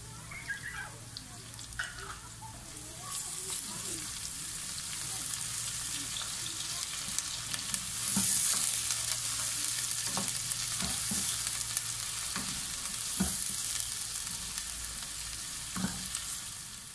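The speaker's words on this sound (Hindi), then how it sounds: "दो से 3 मिनट भूनेंगे हम।" Ginger garlic paste and chili paste fry in a pan over medium flame, giving a continuous soft sizzle with occasional clinks and stirring scrapes, no talking.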